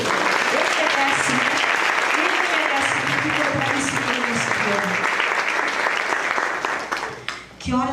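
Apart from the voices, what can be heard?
applause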